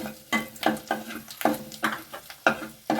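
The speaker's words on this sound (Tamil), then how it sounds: "கடுகு வெடிக்கிட்டு காஞ்ச மிளகா போட்டேன்." Mustard seeds spluttering and dried red chillies frying in hot oil for mint rice, a run of sharp crackling pops and bursts in irregular rhythm, close and fairly loud with no voices.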